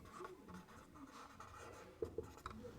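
Marker or chalk writing on a board in a classroom lesson, a series of soft scratchy strokes with small taps, faint and close with no voices.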